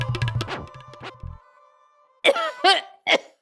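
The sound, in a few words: coughing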